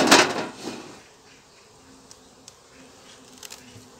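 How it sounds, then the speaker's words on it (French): A close, loud buzzing burst of bees in a hive feeder at the start fades to a faint insect hum with occasional small clicks and taps. "Quelques abeilles dans le nourrisseur."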